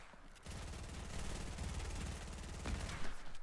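Fortnite gunfire rattles in a rapid, dense burst of shots, fairly faint and continuous, with a sharper crack near the end and no talking over it.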